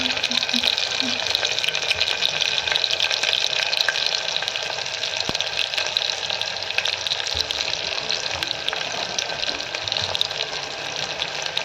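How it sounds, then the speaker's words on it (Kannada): Spices fry in oil for a tomato pulao, giving a loud, continuous close-up hiss and crackle that holds steady throughout, with a few faint clinks of stirring. "ನೆಕ್ಸ್ಟ್ ಸ್ಪೈಸಿ ಹಾಕ್ಕೊತಾ ಇದ್ದೀನಿ. ಅದು ಸ್ವಲ್ಪ ಇದಾಗಲಿ, ಚೆನ್ನಾಗಿ ಎಣ್ಣೆಲಿ ಫ್ರೈ ಆದರೆ ಚೆನ್ನಾಗಿರುತ್ತೆ ಟೇಸ್ಟು."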